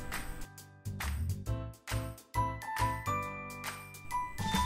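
A phone's start-up jingle sounds while it boots, a bright run of chiming tinkly tones with distinct note onsets over about four seconds, fairly clear and close with no talking.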